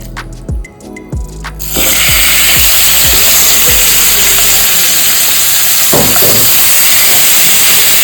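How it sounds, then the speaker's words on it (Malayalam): Chicken pieces drop into hot oil in a pan. Each lands with a soft thud, and a loud, close, continuous sizzle and hiss follows, with more pieces thumping in under the steady frying noise. "നമുക്ക് ഇട്ട് കൊടുക്കാം ചിക്കൻ."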